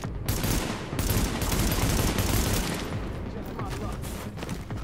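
Sustained rapid gunfire from the video game Tom Clancy's The Division rattles continuously and loudly for several seconds, with dense overlapping bursts and no pauses.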